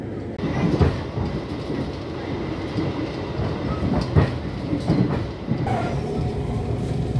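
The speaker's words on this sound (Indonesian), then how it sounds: "Nah kita kayaknya balapan juga tuh sama KRL tuh teman-teman." A KRL commuter train rumbles along steadily on an adjacent track, heard from a passenger train running alongside, with rolling rail noise and occasional clattering wheel thumps, loud and continuous.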